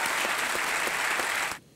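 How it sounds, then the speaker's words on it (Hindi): A brief burst of dense studio audience applause from a Kaun Banega Crorepati game-show set, steady and full for about a second and a half before cutting off abruptly. "जितने भी लोग यहाँ बैठे हैं सब तालियां बजा रहे हैं आपके लिए।"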